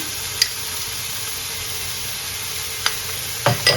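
Vegetables stir-frying with vinegar and soy sauce in a hot pan, a steady close sizzle and hiss with a few brief scraping stirs near the end.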